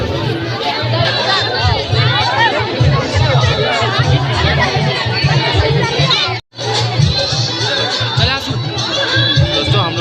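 A dense crowd pushes and jostles at a temple entrance on New Year, a loud, continuous babble of many voices with shouts close around, broken by one brief sudden silence.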